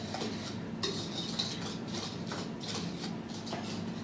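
A spoon or whisk mixes dry ingredients into batter for a crustless Swiss apple pie, scraping and clinking steadily against a bowl up close, with no talk over it.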